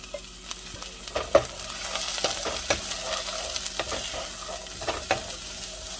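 White onions sizzle and crackle in a hot pan while being stirred, with scraping clicks recurring irregularly over a steady frying hiss at close range, no talking.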